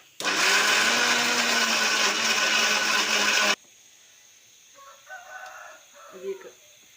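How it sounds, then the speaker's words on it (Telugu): A kitchen mixer grinder whirs loudly and steadily while blending gravy for a rajma curry, running for about three and a half seconds before cutting off abruptly, followed by quieter kitchen clatter. "అది చూడండి, మిక్సీ పడుతుంది."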